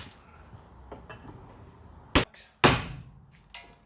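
A hammer strikes a bolt splitter on a Ford P100 project with two sharp metallic smacks, the second louder, after quiet shuffling.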